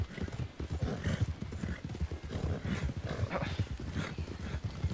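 Rapid hoofbeats clatter steadily in Red Dead Redemption 2, as if several horses gallop past at close range, with a brief whinny now and then over a busy, dense background.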